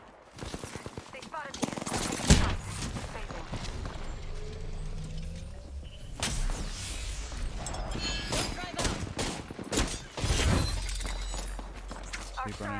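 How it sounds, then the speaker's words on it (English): Gunfire in a video game: rapid bursts of automatic fire and sharp shots crackle in clusters, with loud volleys near the start and again in the middle, while players keep talking over it. "They're shooting at me."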